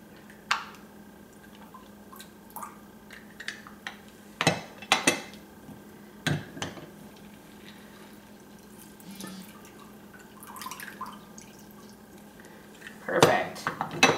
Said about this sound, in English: you squeeze, and all the juice comes out